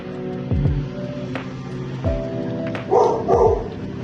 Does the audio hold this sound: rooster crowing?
no